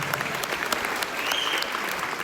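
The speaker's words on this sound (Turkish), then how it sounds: "Alkışlar." A group applauds with a fairly quiet, steady patter of many hands clapping together for a couple of seconds, with no voices standing out.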